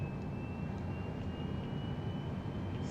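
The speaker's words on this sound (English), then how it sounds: "APU is starting up" An airliner's auxiliary power unit spools up in Microsoft Flight Simulator 2020, a steady jet-like whine with a thin high tone over a broad, even rumble, continuous and moderately quiet.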